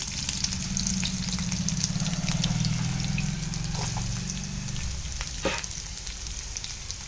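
Onion fries in a pan for paneer masala gravy, giving a continuous close sizzle with a low steady rumble, light stirring noises, and one sharp clack near the end. No one speaks.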